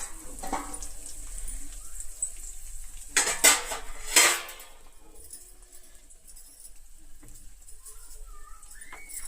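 A spoon clatters and scrapes against a metal pot as a tempering is stirred into cooked semolina. A few brief clinks bunch together midway, with quiet between them.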